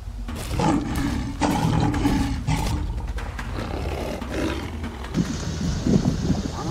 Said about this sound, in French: La lionne rugit, un rugissement plein d'autorité, mais aussi de tension.